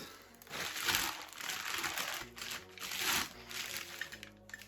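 Steady crinkling and rustling of a plastic bag from an unpacked parcel, close up, with louder bursts as the material is handled and pulled apart.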